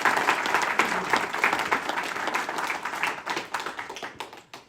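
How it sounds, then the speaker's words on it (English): An audience claps after a psychology presentation, with dense, steady applause that gradually thins into scattered individual claps before fading out. "let's give Dennis a big round of applause"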